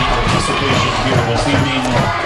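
Homecoming crowd at a high school football game between Brethren and Mesick cheering after a 30-14 win, a steady dense roar of many voices and shouts filling the stands without pause.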